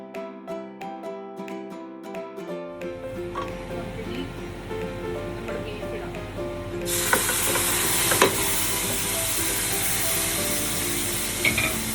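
Beef stir-fried with masala for a beef curry, heard as a loud, dense sizzle with stirring scrapes that builds and intensifies partway through, preceded by background music.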